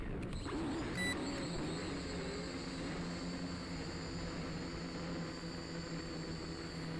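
A small drone flies after being thrown into the air, giving a steady, constant buzzing whir at moderate distance with no talking.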